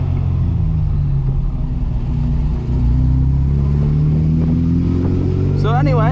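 A 1973 Mini Cooper's four-cylinder engine hums loud and close from inside the car on the road in Maui, a steady low drone that rises slightly partway through, with a faint high squeal near the end.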